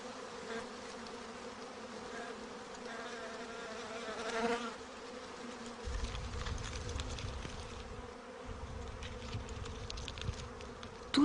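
A honeybee swarm clustered around its old queen makes a dense, continuous buzzing drone, soft and steady throughout with slight swells.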